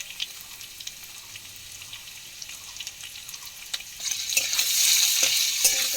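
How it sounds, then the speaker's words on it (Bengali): Boiled potatoes frying in oil crackle quietly at first with soft ticks, then burst into a louder, dense, steady sizzle that fills the last couple of seconds, with no voices. "এটা সিদ্ধ করা আলু আমি তেলের মধ্যে দিয়ে দিলাম।"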